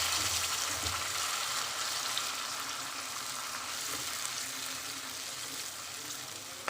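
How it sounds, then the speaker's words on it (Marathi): Chicken sautés in oil in a pan for a Hyderabadi green chicken dish, giving a steady, dense sizzle and crackle that holds at an even level throughout with no voices. "छान तेलामध्ये त्याला होऊ द्यायचं, 5 मिनिटं छान परतून घ्यायचं।"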